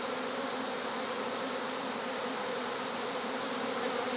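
A honey bee swarm building comb on sticks hums in a steady, dense buzz, close and continuous throughout with no voices over it.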